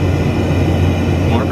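Steady, loud airplane cabin engine roar in flight, a constant broadband drone with no breaks.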